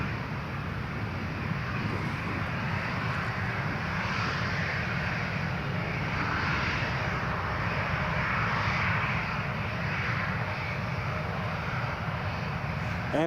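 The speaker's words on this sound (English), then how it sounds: "Air France Embraer 170 is just taxiing" An Air France Embraer 170 jet taxis at Newcastle International Airport, its engines holding a steady, broad whine and rumble for the whole stretch, with light wind noise on the microphone and no talking.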